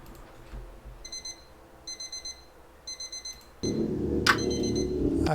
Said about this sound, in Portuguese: Aqui um barulhinho de alarme tocando